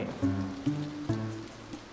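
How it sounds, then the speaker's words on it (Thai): Soft patter of rain with light droplet splashes from the video game A Bird Story, over a low tonal hum, brief louder bursts recurring every half second or so. "วันนี้ฝนตกด้วย"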